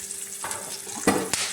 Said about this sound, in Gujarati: જો આપણે મરચાં વઘારી નાખ્યા છે.